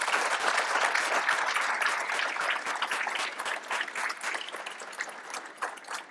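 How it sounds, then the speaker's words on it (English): An audience at a New York Academy of Sciences celebration applauds warmly for Rose, a dense, steady clapping that fills the room and slowly tapers toward the end, with no talking over it. "can we have a round of applause for Rose?"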